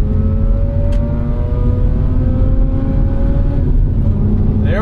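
A sports car engine revs up loud and close while pulling out to overtake a Honda Civic, its pitch climbing steadily throughout the run.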